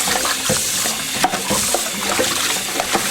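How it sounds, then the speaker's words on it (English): Raw beef being washed for caldo de res under running water, a continuous splashing gush with irregular sloshes and handling knocks, fairly loud and close, with no talking. "So now she's just gonna wash the meat."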